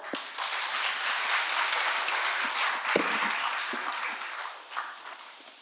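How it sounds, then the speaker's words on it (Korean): Audience applause fills a hall at a healthcare industry labor-management forum after a professor's presentation, a steady dense clapping that holds evenly throughout with a few sharper claps standing out. "박경원 교수님께 다시 한번 힘찬 박수 부탁드립니다"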